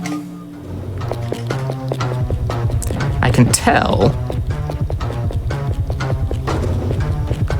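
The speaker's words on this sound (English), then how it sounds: "I can hear their footsteps behind me, but it's a very low audio cue" Enemy footsteps in a horror video game speedrun tap in a steady rapid rhythm beneath constant game sound, while a person talks over them.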